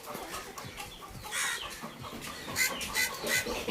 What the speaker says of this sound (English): Look at what these chickens are doing.